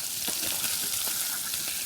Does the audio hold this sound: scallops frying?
yes